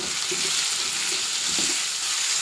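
Rice frying in a pan for egg fried rice, a steady close sizzle with faint stirring scrapes, no talk.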